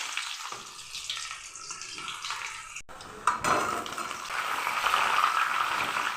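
Chopped onion going into hot oil in a pan for Bengali aloo dum, giving a steady broad sizzle that swells louder partway through, with faint utensil clinks in a home kitchen.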